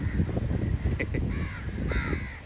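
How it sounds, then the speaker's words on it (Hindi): Crows cawing at a beach in Goa, several birds calling in short harsh bursts over a loud, constant wash of wind and surf-like noise. "इधर देखो कितने सारे कौवे आ गए"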